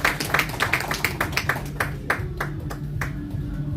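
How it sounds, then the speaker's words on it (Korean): A crowd claps at a Korean church emergency joint prayer meeting, with crisp hand claps landing in a quick, fairly regular rhythm that thins out and slows toward the end. "박수 하겠습니다."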